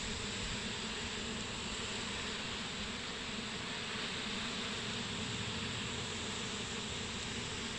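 A honeybee swarm climbing up into a hive gives a dense, steady hum of countless wings, loud and continuous throughout with no talking.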